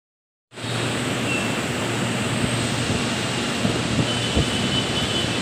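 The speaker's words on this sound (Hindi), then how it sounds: "देखो मोनोरेल जा रही है" A Mumbai Monorail train moving along its elevated track gives a steady, continuous rumble and whoosh with a low mechanical hum, fairly close and sustained throughout, with no talking.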